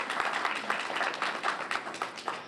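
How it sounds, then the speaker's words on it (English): Audience applause for panelists at a university event, a brief patter of clapping from a moderate crowd, steady for a couple of seconds. "Please give our panelists another round of applause."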